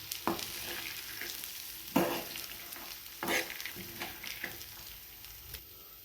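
Peas and moth beans being stirred while frying in a pan, a soft background sizzle broken by several distinct scraping, rustling stirs of the spoon, close by and without speech.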